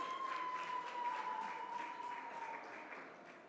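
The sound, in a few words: audience applause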